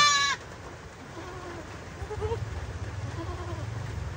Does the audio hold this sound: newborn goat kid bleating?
yes